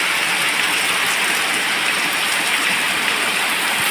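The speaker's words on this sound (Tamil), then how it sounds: "இப்போ பார்த்தீங்கன்னா மதியம் 2 மணி பயங்கர மழை வர்ற மாதிரியே இருக்கு." Heavy afternoon rain pours down steadily in a rural village, a loud, dense hiss with no breaks that fills the whole scene.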